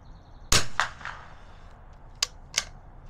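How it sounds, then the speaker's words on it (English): A sharp cold-bore first rifle shot fired with iron sights at a target, followed by a few quieter clicks and another pair of crisp reports, heard alone without talk. "it's a cold bore first shot, too"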